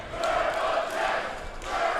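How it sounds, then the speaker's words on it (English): A wrestling crowd at a Duke City Championship Wrestling show roars steadily around the ring, a dense wall of yelling and cheering that swells and dips slightly over two seconds with no clear individual voices. "The crowd is so incensed and so loud"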